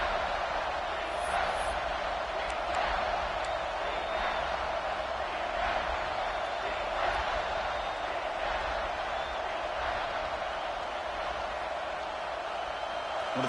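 Football stadium crowd at a UF vs LSU game roaring on a third down, a steady, dense wash of cheering and noise that holds at one loud level throughout.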